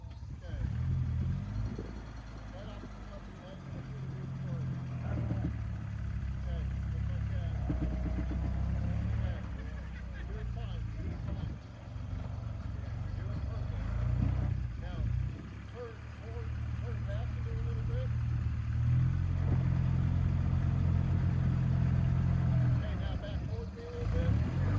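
Antique Jeep with manual steering crawling over rock in Pritchett Canyon, its engine a steady low rumble running throughout beneath almost constant talk.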